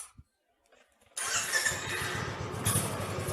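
A Royal Enfield Classic 350 motorcycle engine starts after a few quiet clicks, then settles into a loud, close, steady thumping idle with its characteristic deep rhythmic beat.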